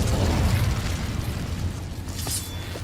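The Incendio fire spell being cast in the video game Hogwarts Legacy. A loud, rushing, fiery burst of sound fades into crackling noise.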